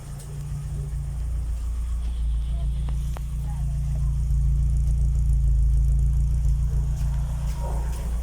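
A car engine idles steadily with a low, constant rumble that swells slightly over several seconds, close and unbroken.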